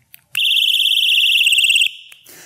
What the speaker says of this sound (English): when they hit the tripwire, it not only is it going to sound off the alarm,